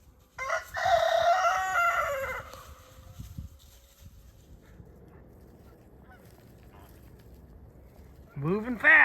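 A rooster crows loudly near the start, then quieter background, and another crow begins at the very end.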